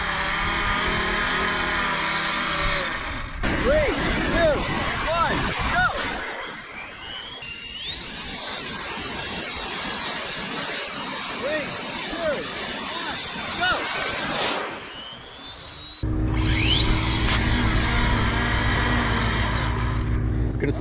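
The jet engine of the Thrust Arrow RC jet dragster spools up in several bursts, a rising turbine whine that holds at a high pitch before cutting off, with a voice speaking over part of it.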